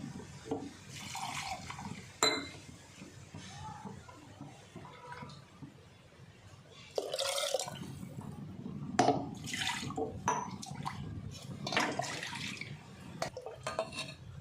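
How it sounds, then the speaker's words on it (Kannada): Water runs and splashes into a pot of sambar in irregular bursts, with some clinks of cookware and quieter pauses between pours. "ಇದಕ್ಕೆ ಮತ್ತೆ ನೀರನ್ನು ಸೇರಿಸ್ಕೊಳ್ಳಿ"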